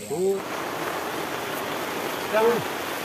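Steady rain hisses down at a riverside campsite, a broad even wash that continues throughout, with brief speech-like voices near the start and end.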